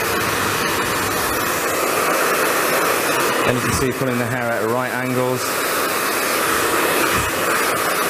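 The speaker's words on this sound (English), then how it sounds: "smoothing down with the dryer" A hair dryer blows steadily while a round brush smooths medium-length hair during a blow-dry, its rushing airflow close and continuous under a woman's explanatory speech.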